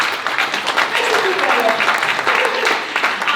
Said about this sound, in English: Let's give each one a round of applause.